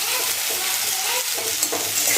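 Onions frying in a pan for a Bengali-style chicken kosha, stirred steadily, with a continuous close sizzle and scraping under no talk.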